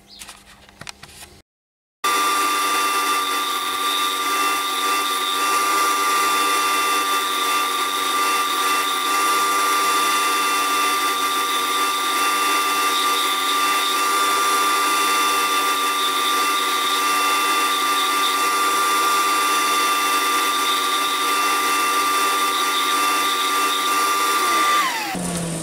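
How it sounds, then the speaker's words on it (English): An ash platter spins on a wood lathe while it is sanded, a steady loud motor whine with a constant abrasive hiss that holds for over twenty seconds after a brief quieter start, then winds down. "and then I'll sand it down"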